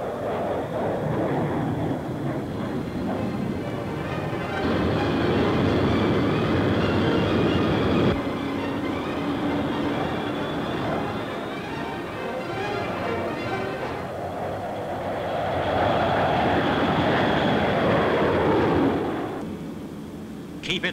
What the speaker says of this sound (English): The Hunter, say these pilots, is the ideal aircraft for aerobatics.